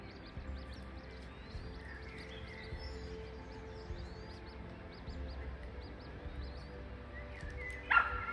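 A dog yips and barks repeatedly in a quick, high-pitched series off in the distance by a lake, over a quiet outdoor hum with birds.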